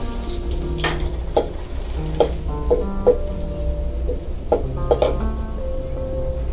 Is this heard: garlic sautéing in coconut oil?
yes